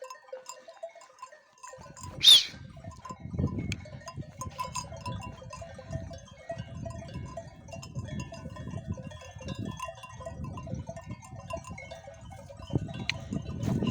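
A flock of ewes grazes on a cold highland pasture. One loud, close bleat rings out early, then soft bell tinkles, shuffling and scattered fainter animal sounds continue at a moderate distance.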